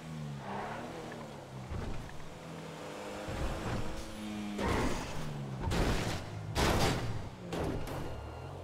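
Engine noise of a car revving and accelerating in GTA roleplay, with tonal motor hum rising and falling and several louder bursts of acceleration toward the end.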